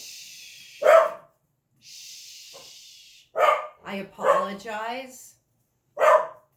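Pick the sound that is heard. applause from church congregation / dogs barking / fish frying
dogs barking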